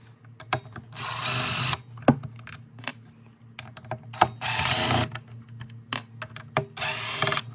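Screws come out of a gas leaf blower's housing as a power screwdriver whirs in several short bursts of about a second each, between clicks, taps and handling noises, close up.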